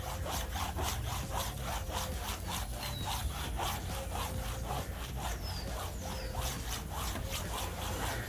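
Steady, gritty rubbing of a clay block over contaminated paint on a Honda Civic, with a regular back-and-forth rhythm like sandpaper scraping, loud and close throughout with no talking.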